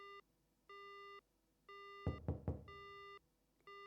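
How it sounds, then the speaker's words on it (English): Three quick, sharp knocks on a glass door in a video game, loud and close, landing between steady repeating electronic beeps of a busy tone. "Someone knocks on the glass door."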